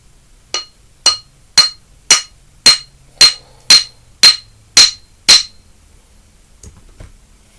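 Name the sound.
hammering red stone flat on an iron dumbbell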